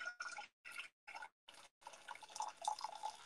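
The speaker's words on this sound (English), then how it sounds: "I'm just going to put on some boiling water for the rice" Tap water runs and splashes into a pan being filled for boiling basmati rice, starting in short choppy bursts and then flowing steadily, close and fairly quiet.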